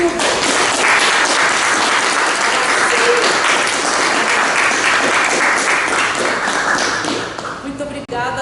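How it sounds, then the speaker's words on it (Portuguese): Sustained, dense audience applause for a lecturer at the close of an academic talk, loud and steady for about seven seconds before thinning out near the end. "Então, as palmas para a nossa professora e para o público."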